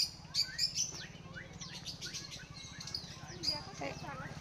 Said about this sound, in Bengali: এটা ঘুঘু পাখির বাচ্চা বোধহয়।